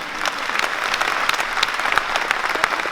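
Loud applause from a crowd at a Catholic Charismatic Renewal gathering, dense steady clapping that fills the full three seconds with no voices over it.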